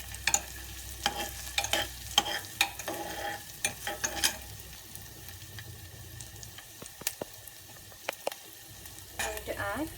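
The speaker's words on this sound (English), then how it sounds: "Then I'm adding the sliced onion." Sliced onion fries in a pan for mutton bone rasam, a low crackling sizzle broken by sharp scraping and clinking stirring strokes at uneven intervals, close and moderate, with no talk.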